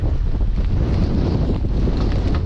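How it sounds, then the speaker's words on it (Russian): Steady, loud wind roars and buffets the microphone throughout during a storm with rain, a continuous low rumble with no breaks. "Опять пошел дождь. Опять поднялся ветер."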